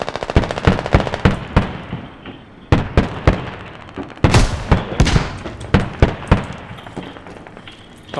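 Rapid, heavy blasts from RPG rockets and artillery shells in the military shooter game Squad, a dense run of sharp booms and bursts of gunfire that pile up close and loud over several seconds.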